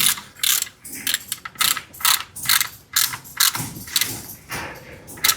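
A hand ratchet turns a 10mm socket on the gearbox of a Nissan Navara D40 during a transmission oil change, giving repeated bursts of quick, close metallic clicking with short pauses between strokes.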